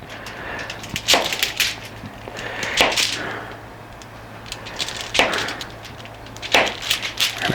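A knife cuts through a stick of butter on a board beside pork spare ribs, making a few separate firm chopping knocks and scrapes spaced a second or two apart, close and fairly loud, with no talking.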